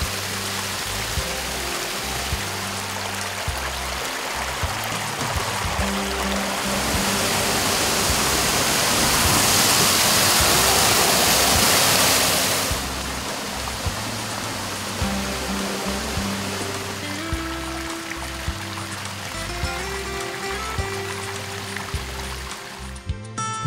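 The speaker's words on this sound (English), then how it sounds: "Take in the waterfalls that are designed to relieve the stress of the day." A garden waterfall at a Colorado mountain estate pours in a constant rushing hiss that swells louder midway, with soft, low background music underneath.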